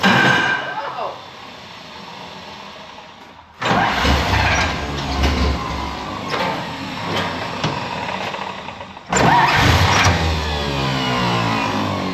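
An old 1956 Power Wagon truck engine is cranked to start in two loud, rough bursts of churning mechanical noise, separated by quieter stretches of low background sound.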